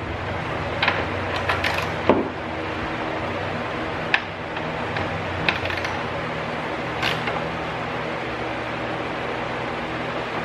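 A ratchet works steel screws into headlight guards on a Jeep Gladiator, producing a few sparse clicks and creaking mechanical sounds against a steady background hum, close and fairly quiet.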